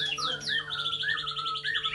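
A white-rumped shama (murai batu) crossbreed with Sabang blood sings a rapid, close run of bright whistled notes and sweeping chirps, continuous and loud with no talk.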